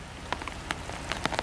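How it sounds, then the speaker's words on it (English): Steady rain falls in the deep woods as a dense, even hiss, with scattered louder drops tapping nearby surfaces. "It is raining out there, I tell you. Something fierce."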